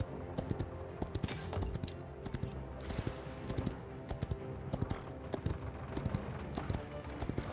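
Horse hooves clip-clop while riding a horse in the video game Paladins, a quick uneven run of hoof thuds, fairly faint under a busy game soundscape, with scattered sharp clicks.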